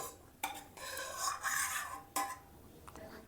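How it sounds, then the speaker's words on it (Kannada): Cashews stir-frying in a pan, a utensil scraping and rattling against the metal in a few sharp strokes over a soft continuous sizzle, close and moderately loud with no talking. "ಮೊದಲಿಗೆ ಒಂದು ಸ್ವಲ್ಪ ಗೋಡಂಬಿ ಹಾಕ್ಕೊಂಡು ಹುರ್ಕೊಳ್ರಿ ಒಂಚೂರು ಕಂದು ಬಣ್ಣಕ್ಕೆ"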